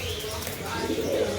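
Pigeons coo softly in a loft holding racers and fancy breeds such as blue bar hens, Spanish Maltese, grizzles and German Modena, a low steady murmur running through the whole short stretch with faint chirps.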